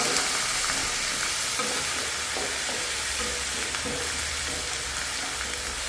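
Ginger, garlic, green chili and curry leaves frying in oil for a date pickle, a loud, continuous close-up sizzle with light stirring scrapes throughout.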